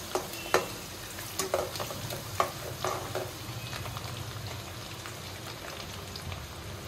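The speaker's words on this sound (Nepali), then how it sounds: "म यो चप गरेको लसुन पनि फ्राई गर्न लागिरहेको छु।" Chopped garlic fries in a pan until golden, giving a steady close sizzle broken by scattered scraping taps of stirring, with no one talking.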